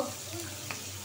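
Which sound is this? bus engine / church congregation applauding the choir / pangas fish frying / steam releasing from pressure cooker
pangas fish frying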